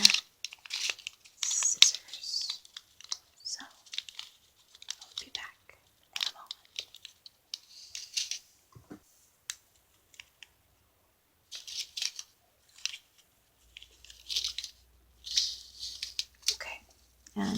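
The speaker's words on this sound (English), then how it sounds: "this is going to require scissors" Scissors snip and slice open small plastic packets of craft beads for a gem keychain, with close crinkling and rustling of the plastic in soft, scattered bursts between quiet pauses.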